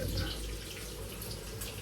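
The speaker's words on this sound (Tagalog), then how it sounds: "Tapos ilagay ng tubig." Tap water runs steadily into a kitchen sink during home cooking, a continuous broadband wash of flow with no clear breaks.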